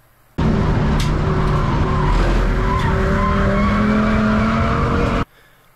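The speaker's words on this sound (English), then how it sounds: "the back end steps out to me on the left hand side, and I start going full Drift King through the corner" A race car slides sideways through a corner, its tires skidding in a loud, sustained squeal over engine roar for about five seconds, starting and stopping abruptly.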